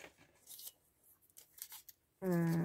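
Scissors working through stiff cardstock in several short, scratchy cuts, fairly quiet and close, ending in a sudden loud tonal noise.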